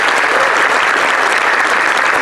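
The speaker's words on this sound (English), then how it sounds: "quick round of applause for Michael for a good day." Audience at an indie game developer space jam event in Orlando, Florida, gives a quick round of applause: steady, dense clapping throughout, loud and close, with no pauses.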